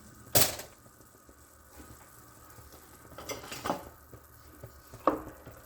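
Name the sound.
stirring noodles into goulash in a pan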